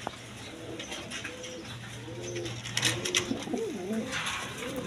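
Pigeons of a racing breed coo in soft, low rolling calls, a few overlapping phrases close by, with a steady noisy background and no talk.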